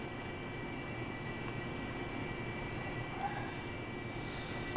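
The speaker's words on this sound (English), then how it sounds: "I'm taxiing to the runway" An AV-8B Harrier jet taxiing in the DCS World combat flight game gives off a steady low engine rumble and hiss that holds at an even level, with a brief click near the end.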